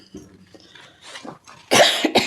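A few soft throaty sounds lead into two sharp, loud coughs close to the listener, the second following quickly after the first.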